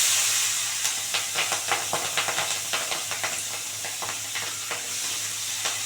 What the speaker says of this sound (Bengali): পেঁয়াজ কলি আর লঙ্কাটা দিয়ে দিলাম আগে।